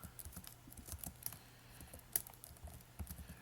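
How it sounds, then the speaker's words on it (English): Someone types on a computer keyboard, with quick, irregular key clicks close by and occasional heavier taps, and no voices over it. "when I finish typing this out"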